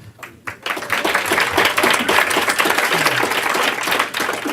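A crowd breaks into sustained applause, many hands clapping loudly and densely, building after a few scattered first claps.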